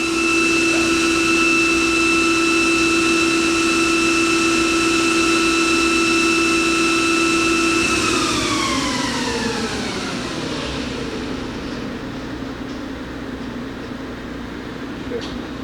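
Hurco TM-18Li CNC lathe spindle with a two-speed gearbox spinning steadily with a strong whine, then winding down in pitch as it slows, fading to a quieter hum, close and alone.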